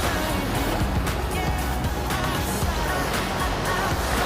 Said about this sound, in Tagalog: Kasama yung mga pagaspas ng alon.